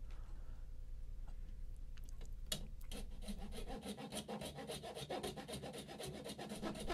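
A hand saw cuts through a bone blank for a guitar nut, with steady rhythmic rasping strokes growing faster and more regular, close and fairly quiet.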